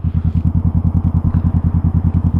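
A Honda CBR 500R motorcycle engine drones steadily while riding, with a fast, even pulsing rhythm that stays loud and close throughout.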